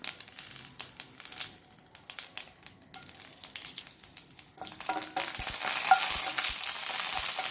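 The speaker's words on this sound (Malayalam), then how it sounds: "ഞാനിവിടെ ഒരു പാനിലേക്ക് 2 ടേബിൾ സ്പൂൺ ഓയിൽ ഒഴിച്ചിട്ട് 1 ടീസ്പൂൺ കടുകും 1 വറ്റൽമുളകും കൂടി ഇട്ട് കൊടുക്കുകയാണ്." Mustard seeds and a dried red chilli crackle and pop in hot oil in a pan, with rapid irregular spits giving way to a steady, close sizzle.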